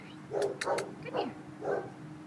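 A dog at a city animal shelter gives a few close, short barks and yips in quick succession, with brief pauses between them and no talking over them.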